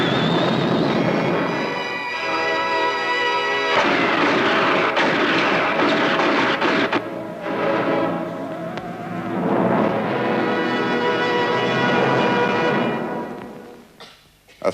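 Space weapons and cosmic ray blasts in a sci-fi movie trailer make a dense, loud, roaring wash of noise that swells and breaks off in waves, then fades at the end.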